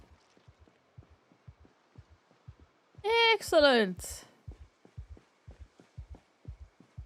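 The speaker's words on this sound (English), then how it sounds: "the heartbeat noise isn't ideal" A steady, soft heartbeat sound effect from the video game Project Zomboid thumps in a regular rhythm throughout, briefly interrupted by a short spoken word in the middle.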